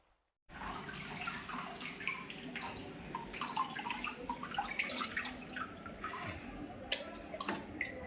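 Water pouring steadily into a household air cooler, a continuous close splashing rush starting abruptly after a brief silence and running on with faint drips and clinks on top.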